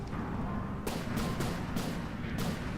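Cannon shots in the naval combat game From The Depths, several sharp booming bursts spaced about half a second apart over a constant low rumble of battle noise, with no talking.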